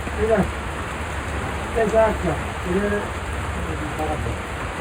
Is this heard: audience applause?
no